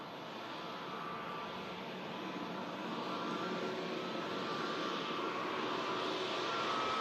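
Airplane taking off at Manchester Airport, a broad steady jet engine roar that swells gradually louder and continues without pause, heard from a distance with no talk.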